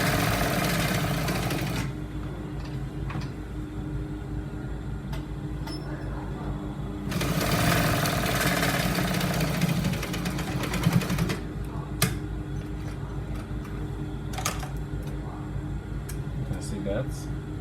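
Sewing machine stitching a trouser seam in short bursts, loud motor whirr and needle clatter for a couple of seconds, then again longer in the middle, with quieter gaps between and a few sharp clicks.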